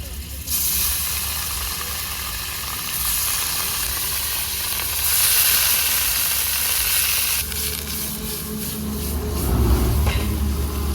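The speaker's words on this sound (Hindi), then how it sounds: "फ्राई पैन हो गया है गरम, इसमें डालेंगे मक्खन अमूल का, ऐड कर देते हैं इसमें पनीर के पीस" Paneer pieces frying in Amul butter in a hot frying pan give a steady, close sizzle and hiss that swells briefly mid-way, with faint stirring and no voice over it.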